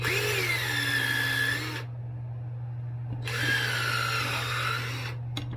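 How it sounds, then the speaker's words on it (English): A power drill whirs in two bursts separated by a short pause, drilling bolt holes for mudflaps on a vehicle, close and steady, over a constant low electrical hum. "And now I'm drilling the 2 holes for the 2"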